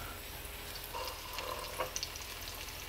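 Zucchini pancakes fry gently in a pan over low heat, a soft steady sizzle with faint crackles, close and quiet, with no voices.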